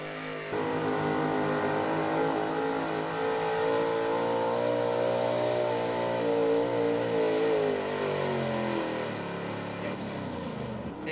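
A 1970 Chevy pulling truck roars at a truck and tractor pull, its engine held at a loud, sustained high rev with shifting harmonic pitch for the whole run before easing off near the end.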